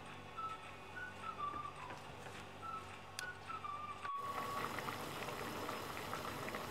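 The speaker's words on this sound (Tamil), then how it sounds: "5 மினிட்ஸ்க்கு இன்னும் நல்லா கொதிக்க விடணும்." Steady bubbling of chicken curry simmering in a pot on a stove, close and quiet, with a faint whistling tone drifting over the soft boiling.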